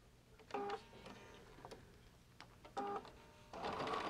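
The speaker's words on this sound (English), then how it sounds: "I'm going to stitch these together" A sewing machine stitches stocking fabric pieces together for a lined Christmas stocking in short, whirring bursts with pauses between runs.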